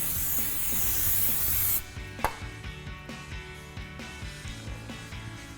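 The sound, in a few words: spraying brake cleaner on a brake rotor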